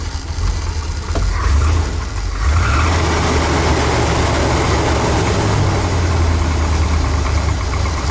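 A 1984 Dodge van engine idles roughly with its choke failing to engage, a steady loud low rumble that surges briefly near the start, then settles into an uneven idle on the edge of stalling.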